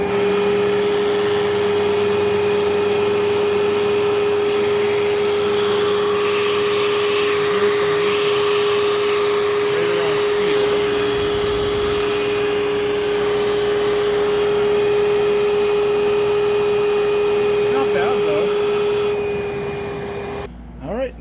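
An Advance Spectrum 12P vacuum cleaner runs steadily during a nozzle suction test, a loud, constant motor whine with a high tonal hum, shifting slightly in character midway before cutting off near the end.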